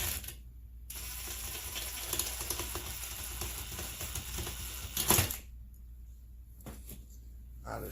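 A ratchet socket driving a bolt back in while working on a McCulloch Pro Mac 850 chainsaw: a long run of fast, close, continuous clicking that stops briefly and resumes near the end.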